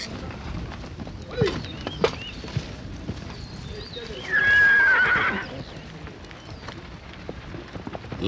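A horse neighs loudly midway through, with scattered hoof clops and outdoor noise before and after.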